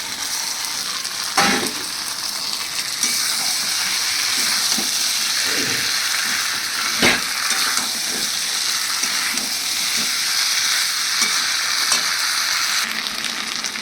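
Fried pointed gourd (potol) pieces go into a simmering aloo potol dalna curry: a loud, continuous sizzle up close with scattered stirring clatters and scrapes.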